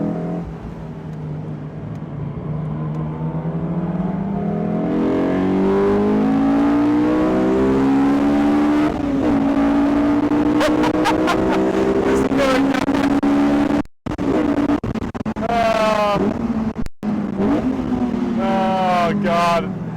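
A Honda S2000 engine revs hard as the car accelerates, its note climbing steadily through the gears. There are a few brief gaps at the shifts before the engine winds up again, loud and close.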